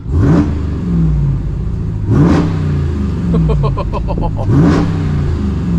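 A modified Ram TRX truck engine, built toward 1,000 horsepower, revs hard three times, each roar rising and dropping back to a rumbling idle, loud and close with wind noise.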